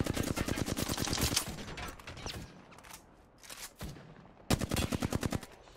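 Gunfire in Apex Legends, with rapid automatic bursts of sharp cracks in two loud strings separated by a quieter gap, close and dominant in the mix.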